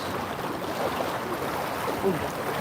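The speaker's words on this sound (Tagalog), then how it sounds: "Tumatawid pa ng ilog. Medyo malakas yung ano. Current, no? Lakas ng agos." Rushing water of a strong river current flows steadily in a continuous broad wash, at night, with a faint murmur of voices in the background.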